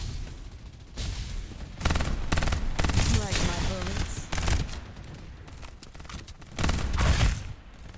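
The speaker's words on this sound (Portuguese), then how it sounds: "Tá trocando tiro com alguém aqui." Rapid bursts of automatic gunfire exchanged in the battle royale video game Farlight 84, with clustered volleys and pauses between them, plus brief voice in places.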